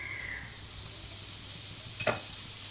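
Asafoetida, turmeric and red chilli powder sizzle softly in a hot pan for a chana masala, with a steady low frying hiss and one brief louder scrape of stirring near the end.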